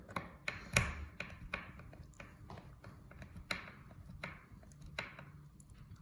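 Screws driven into a wooden piece for a fruit bird feeder: a series of close, sharp clicks and taps at uneven intervals, moderately loud against a quiet background, no talking.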